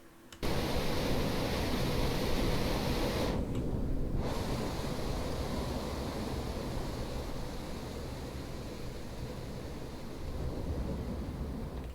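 Water waves from a Fortnite replay in a video game, a steady loud wash of surf-like noise that runs throughout with no talking, briefly dipping in the upper range partway through.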